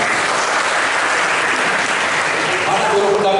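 Audience applause at a school event with students and teachers from SMA 15: dense, steady clapping from a large room, loud and continuous, with faint voices underneath.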